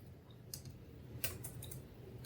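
Several scattered keystrokes tap on a computer keyboard while HTML heading tags are entered, faint, close and sparse against a quiet room.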